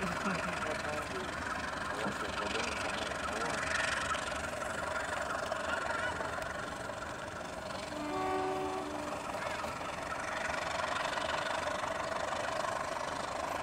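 A KRD diesel railcar pulls away from a station on a line being double-tracked, its engine droning steadily throughout with a brief horn-like tone midway, heard fairly close amid rail noise.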